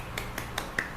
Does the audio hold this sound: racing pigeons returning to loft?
no